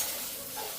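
Sambar ingredients frying and being stirred in a pan, a close, steady crackle of sizzling with soft scraping movement throughout, no talking.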